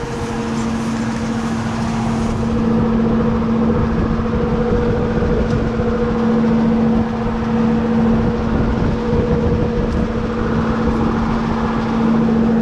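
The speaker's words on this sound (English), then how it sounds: "We got a fan running, no compressor." A steady, loud droning hum of a Carrier air conditioner's condenser fan running continuously with the compressor not running, a constant low tone and no other sounds.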